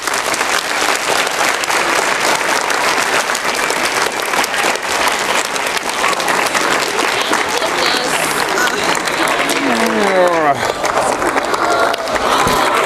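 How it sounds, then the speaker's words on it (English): Sustained applause from a large audience at a special awards event, a dense steady roar of clapping lasting throughout, with a brief voice rising out of it near the end. "One last round of applause for"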